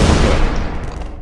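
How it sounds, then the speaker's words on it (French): A flash grenade goes off in the sandbox game Melon Sandbox as a loud, close, rumbling blast that fills the whole moment and fades slightly toward the end, with no talking. "l'explosion peut être assez forte quand même"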